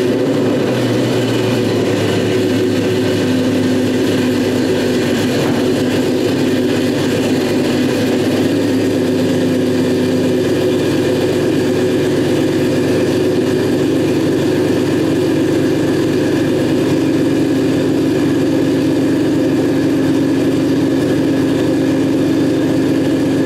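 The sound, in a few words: Jeep engine starting and idling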